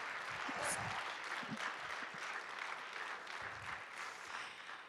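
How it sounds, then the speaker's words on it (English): Audience applause at a church event, a soft distant wash of clapping that holds steady throughout, with faint voices underneath. "we just need to give them a big round of applause for all the effort"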